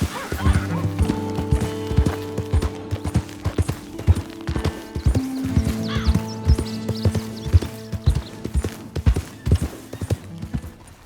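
Galloping horse hooves while riding in Red Dead Redemption 2, a rapid, close clip-clop rhythm continuing throughout, with a brief whinny and faint game music beneath.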